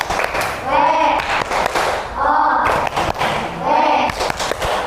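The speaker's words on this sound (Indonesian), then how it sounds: "Kita kasih tepuk wow." Classroom of children performing a rhythmic 'tepuk wow' clap, three loud bursts of patterned clapping and thumping with voices chanting along, evenly spaced and close.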